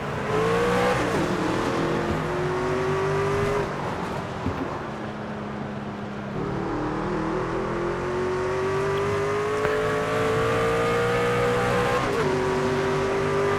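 A NASCAR truck racing engine in the NASCAR 25 video game, a loud, close, steady roar rising and falling through repeated gear shifts and revving as the truck accelerates through laps.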